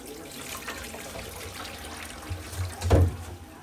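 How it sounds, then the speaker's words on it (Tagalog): Softened bihon rice noodles are drained of their cooking water, giving a brief splashing pour that swells near the end, close and fairly loud over a soft watery background. "Malambot na siya, tanggal natin yung tubig."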